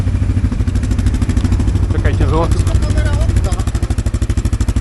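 Loncin 550 XWolf quad's engine idles with a fast, even pulsing beat, loud and close, swelling slightly as it is given throttle near the end, while people talk briefly over it.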